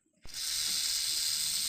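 A cartoon snake in a children's animal video lets out a sudden, loud, steady hiss after a brief moment of quiet, sustained to the end.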